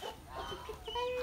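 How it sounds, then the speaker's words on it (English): A hen clucks at a farm resort among goats and a small chick, giving a few short, fairly close clucks over light background noise. "And here there is a hen."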